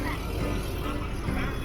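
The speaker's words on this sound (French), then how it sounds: "Et le bus fait vraiment beaucoup de bruit" Loud, steady rumble of a noisy bus engine running continuously through a long highway trip, a dense low drone filling the whole moment with no clear talk over it.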